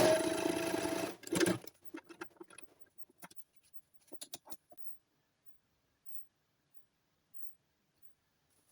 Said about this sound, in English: I just sew it closed with the sewing machine